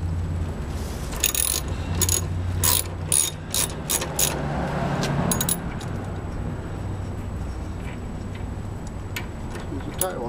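Ratcheting wrench clicks while loosening the blade bolt on a Craftsman lawn mower with a Tecumseh engine, tipped over and braced with a piece of wood; a rapid burst of close metallic clicks, then quieter handling, under steady background hum.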